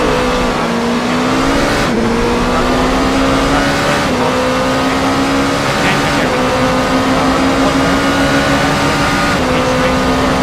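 Race car engine heard on board during a Le Mans lap in a racing simulator, from a 5-hour sim endurance race. The loud, steady engine note climbs and drops with several gear shifts, under a commentator's voice.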